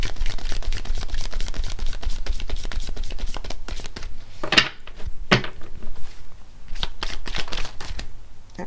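Tarot cards shuffled and drawn by hand, a dense run of soft papery riffles and slides with a couple of sharper snaps as single cards are pulled and laid down, close and steady throughout.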